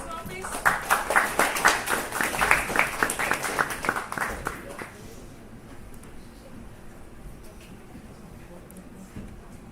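An audience at a project presentation event claps for the presenters, a dense round of applause lasting about four seconds that fades into quiet room noise with scattered voices.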